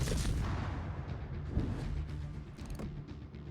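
Destroyer guns fire in the World of Warships game, heard as a few deep, booming shots with rumbling tails over a dense battle din. No one speaks.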